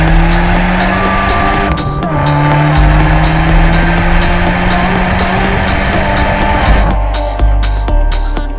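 An Abarth 124 Spider's engine roars loud and close, sustained droning revs with gear changes and sharp upshift pops, no talking.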